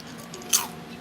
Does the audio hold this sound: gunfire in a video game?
no